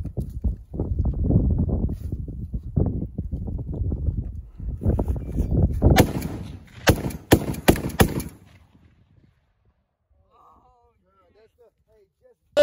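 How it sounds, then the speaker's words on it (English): A 450 Bushmaster rifle fires a quick string of sharp, loud shots in rapid succession at close range, coming after a stretch of rustling and handling noise, then the scene falls quiet. "Super safe 450 Bushmaster. Going hot."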